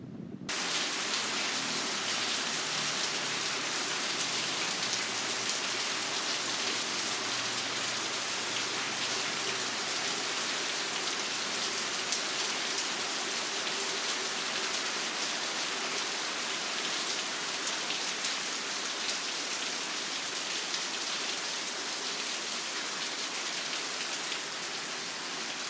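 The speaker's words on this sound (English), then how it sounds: "It's raining, can you see?" Steady rain falls on a compound outdoors, a dense continuous hiss of drops on surfaces that stays even and close throughout, with no voices.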